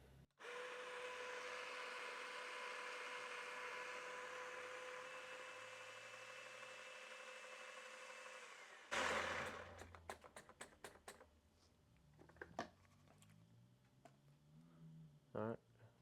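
A Baratza coffee grinder set to 20 for a coarse grind runs as a steady, close motor whir for several seconds, then cuts off and is followed by scattered clicks and taps under quiet talk.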